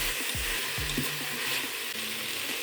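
Carrots, potatoes and pearl barley fry loudly in a pot, a steady broadband sizzle broken by a few scraping knocks of a spoon stirring them, close and continuous with no voices.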